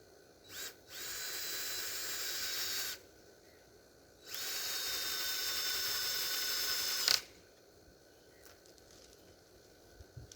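A power drill drives screws into a farm fence in two whining runs, one of about two seconds and a longer one of about three seconds, each ending abruptly, with quiet gaps and faint clicks between them.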